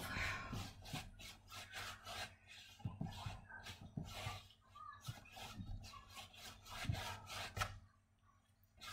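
A small brush rubs leftover powder off a canvas, making quick, rhythmic scratchy strokes repeated many times. The strokes are close and fairly quiet, and there is no talking.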